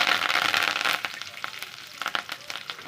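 Curry leaves crackle and sputter in hot oil for a tawa egg curry gravy, a dense loud burst easing into scattered sharp pops, close and with no voices.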